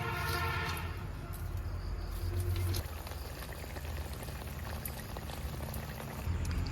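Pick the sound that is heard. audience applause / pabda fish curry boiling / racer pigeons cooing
pabda fish curry boiling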